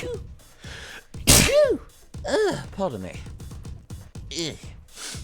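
A single sharp sneeze bursts out amid a stretch of conversation, loud and close, followed by voices continuing to talk.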